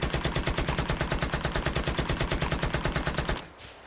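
A rifle fires a long, rapid automatic burst in the Vietnam War shooter Rising Storm 2: Vietnam, evenly spaced loud cracks for over three seconds before stopping abruptly into a faint tail.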